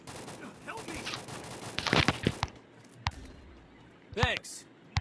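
Rapid bursts of gunfire from an AK rifle in Free Fire, sharp cracks in quick succession with a few isolated shots, under people talking.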